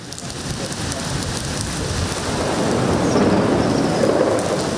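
Heavy rain pours down in a dense, continuous hiss, building slightly louder toward the end.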